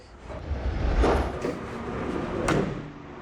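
A heavy old Studebaker pickup truck door clunks open and shuts with metallic creaks, two solid thuds standing out over a rustling background, fairly close.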